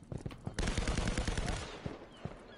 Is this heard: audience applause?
no